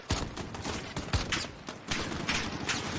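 Dense, sustained gunfire from Call of Duty Modern Warfare crackles in repeated loud bursts and volleys, close and chaotic, with overlapping shots filling the whole stretch.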